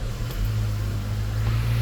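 An idling MG5 car engine with an overheating cooling-system fault hums at close range, a steady low drone with a faint hint of revving and no talk over it.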